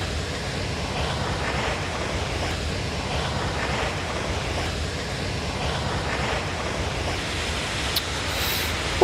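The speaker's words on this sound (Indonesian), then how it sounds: "Itu air terjun" Constant broad rushing of the Penimbungan waterfall on a Rinjani trail, steady and unbroken, heard from a moderate distance with a windy, washing texture.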